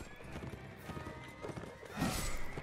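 Horses gallop across a battlefield in the Mount and Blade Warband video game. Their hooves clatter in quick rhythm amid combat noise, with a horse's neigh rising near the end.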